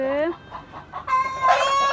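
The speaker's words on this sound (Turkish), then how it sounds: "Dört tane horoz var. Gerisi tavuk." Four roosters crow loudly nearby while hens cluck in short bursts around them, a busy village farmyard chorus.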